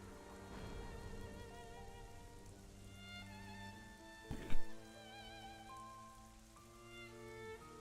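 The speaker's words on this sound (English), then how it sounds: "I like the rain." Rain falls in the video game Xenoblade Chronicles as a soft, steady patter beneath prominent game music, broken midway by one sharp, loud crack like thunder.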